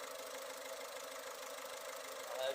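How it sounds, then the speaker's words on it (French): Idling car engine with a diesel fuel suction system, a faint, steady, regular rumble and hiss that holds even throughout, slightly rising at the very end. "actuellement notre moteur est au ralenti, le régime est bien régulier"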